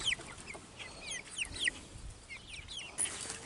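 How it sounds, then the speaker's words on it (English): Laying hens on a hobby farm cluck and chirp in short, scattered calls against a low outdoor hum, with no talking. "these will all be laying hens"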